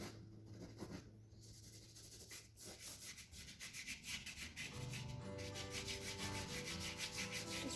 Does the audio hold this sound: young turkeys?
no